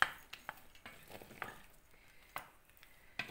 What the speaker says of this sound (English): Mix this together.